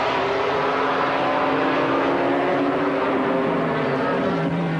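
GT race cars, including a McLaren, race at the Jerez circuit in 1995, their engines droning loudly and steadily with shifting pitch as cars pass and accelerate.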